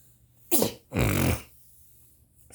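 A single person sneezes sharply, a short intake followed by a loud burst, then quiet breathing and room noise, with no talking.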